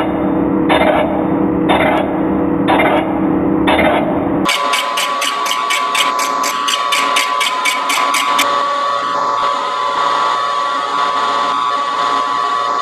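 A fly cutter on a Harbor Freight milling machine cuts across a cast iron vise, first in evenly spaced periodic chirps, then a continuous whining machine tone with rapid rhythmic tapping of the cutter striking the metal.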